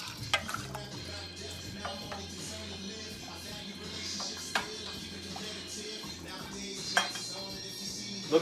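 Dishes and a ladle clink faintly as coconut curry soup with chicken and noodles is served into a bowl, a few sharp knocks of utensil on metal and ceramic over a low background hum.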